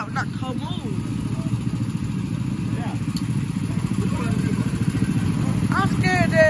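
A golf cart engine runs steadily throughout with a constant low hum and clatter, while children and adults talk and shout over it at a birthday outing with go-karts.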